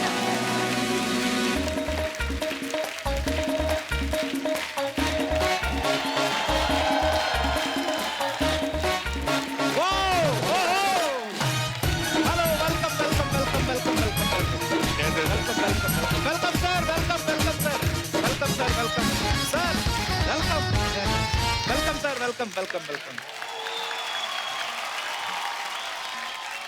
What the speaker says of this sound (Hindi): एक बार जोरदार तालियां हंगामा 2 की सुपर टैलेंटेड कास्ट के लिए